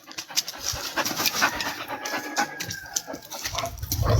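Dogs at play pant and huff rapidly and close up, with dense, noisy breathing and a few whimpering tones throughout, ending in a low rumble; no talking.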